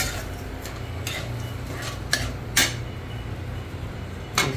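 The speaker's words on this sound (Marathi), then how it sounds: "शेंगदाण्याची कूट टाकल्याच्यानंतर परतून घ्यायचं" Sabudana khichdi with crushed peanut powder being stirred and sautéed in a pan, giving soft scraping and a few sharp utensil clinks against the metal, close and fairly quiet with no voices.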